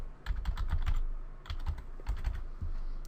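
Password being typed on a computer keyboard, close clicking key presses in short bursts separated by brief pauses.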